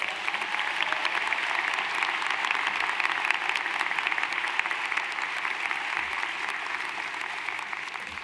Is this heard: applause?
yes